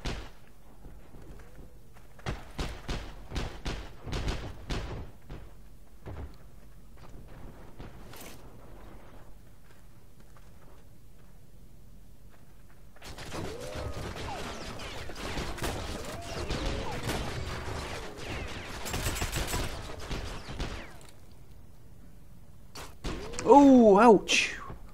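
Gunfire in the World War II shooter game Heroes and Generals, scattered sharp shots early on, then a dense stretch of rapid firing and impacts, ending with a louder burst.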